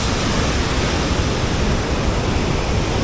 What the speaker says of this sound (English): the double waterfall goes both ways.